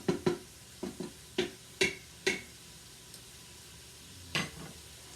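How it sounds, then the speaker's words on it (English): Food cooking in a pan while being stirred, with a series of sharp spoon-on-pan clacks and scrapes over a light sizzle, then a pause before one last knock. "Just kind of stir it up and get it all mixed in together."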